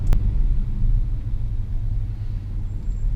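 A Lamborghini Urus fitted with a race exhaust idles nearby with a low, steady, throbbing rumble that holds at an even level throughout.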